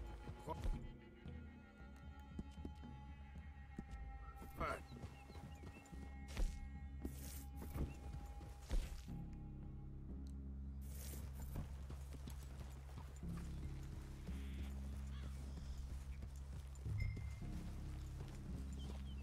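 Horses in the Red Dead Redemption 2 video game walk with clear clip-clop hoofbeats, irregular and fairly close, with occasional snorts and gear rattles over a low ambient hum, fairly quiet overall.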